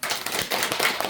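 An audience at a Sunday temple dharma talk applauds in a short, dense burst of scattered hand clapping, moderately loud and close.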